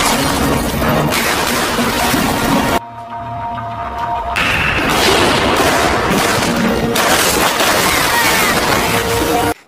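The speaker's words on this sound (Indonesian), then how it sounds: "Di sini, Zhao berhasil membunuh semua penjaga dengan mudah, walaupun ia juga tertembak di bagian bahu." Dense gunfire and crashing impacts in an action film shootout, a loud, continuous barrage with a short quieter gap, then heavy shots and booms again, mixed with music and effects.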